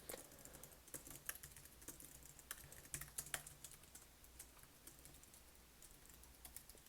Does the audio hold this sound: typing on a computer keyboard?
yes